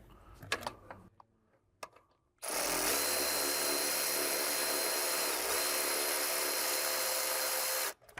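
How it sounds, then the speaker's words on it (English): A power tool whirs steadily for about five seconds, snugging an alternator bolt on a Porsche Cayman 987 during a water pump job, preceded by a few light clanks of tools. "with the bolt started by hand, we're just going to start gently snugging it in."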